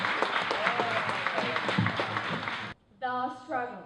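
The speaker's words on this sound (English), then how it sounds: "Ladies and gentlemen, make some noise for Tasbiha" Crowd applause and cheering at a poetry slam fill the room loudly, cutting off abruptly before a voice begins speaking over a quieter background.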